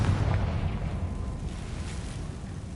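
A Confringo blasting spell from the Hogwarts video game erupts in a dense, booming explosion that rolls on and slowly fades, loud and sustained with no voices.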